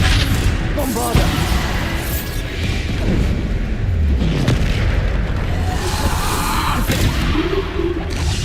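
Bombarda spell explosions in Hogwarts Legacy, a dense barrage of booming blasts and crashing impacts that overlap one another, loud and continuous throughout.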